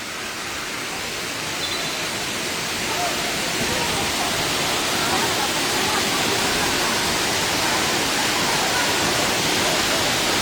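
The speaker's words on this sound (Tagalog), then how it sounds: "Doon ang gagaling sa taas yung tubig." A waterfall pouring down from above, a loud, steady broadband roar of falling water that fills the whole span close by and never lets up.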